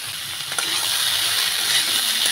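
Vegetables and diced potatoes frying in a pan with salt and turmeric while being stirred, a steady bright sizzle with occasional scraping clinks, loud and close with no talking.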